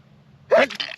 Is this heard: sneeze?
yes